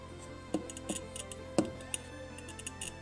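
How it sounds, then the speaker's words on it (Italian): A glass cutter held steady against a rotating glass bottle scores its surface with faint, irregular ticking and scratchy clicks over a low steady hum, close and quiet. "Poi teniamo il più fermo possibile il taglierino contro il vetro e lo facciamo ruotare."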